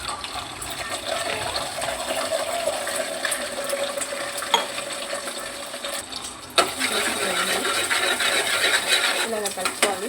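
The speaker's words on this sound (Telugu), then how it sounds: "ఎగ్ మొత్తం మంచిగా రోస్ట్ చేసుకోవాలి. మొత్తం ఎగ్ అంతా, ఎగ్ అనేది ఆయిల్ వేసేసుకోవాలి." Egg stir-frying in oil in a pan for breakfast noodles, a steady sizzle with scraping and stirring clatter throughout, a sharp clink near the middle and busier stirring in the second half; no speech.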